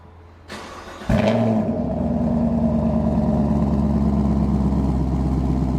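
A short click and whir, then a car engine, started by remote start, cranks and catches, settling into a steady idle rumble that continues evenly nearby.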